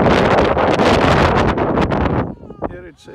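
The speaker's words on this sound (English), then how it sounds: "Now it is windy." Strong wind buffets the microphone at the Mitad del Mundo equator monument near Quito, Ecuador, a loud roaring rush that drops away near the end, where a voice is briefly heard.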